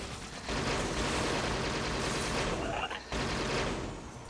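Gunfire in the Xbox One game Spartan Assault, a dense, continuous barrage of shots with blasts mixed in, loud and sustained across the whole stretch with one brief dip near the end.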